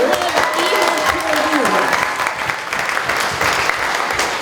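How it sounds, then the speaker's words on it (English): A crowd at a Gen Con 2024 improv Dungeons & Dragons show claps and cheers loudly and continuously, the applause filling the whole stretch. "let's give one more round of applause for our amazing adventurers."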